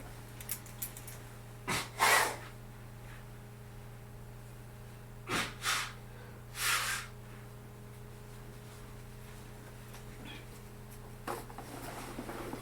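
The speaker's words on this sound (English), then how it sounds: "I need to blow my nose" A person blows their nose indoors in several short, forceful nasal bursts spread over a few seconds, close and moderately loud against a quiet steady hum, with no talking.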